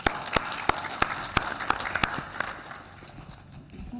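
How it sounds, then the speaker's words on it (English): An audience at a handwashing-themed panel event gives a short round of applause, scattered distinct claps ringing out near the start, then fading and thinning over the following seconds. "I'd say let's just give applause to everybody."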